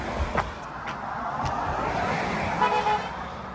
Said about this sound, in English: Yeah, getting heaps of people tooting.